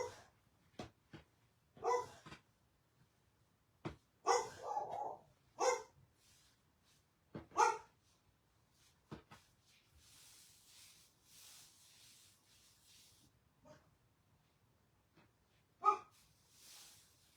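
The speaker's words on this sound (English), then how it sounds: "Trying to figure out what they're barking at." Dogs bark at new neighbors in scattered single and double barks, fairly close and spaced out across the stretch, with quiet gaps and a soft hiss between them.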